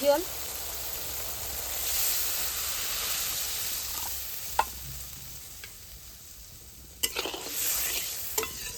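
Okra masala sizzles and fries in oil in a pan, a steady hissing crackle with a few sharp clinks and stirring knocks near the end.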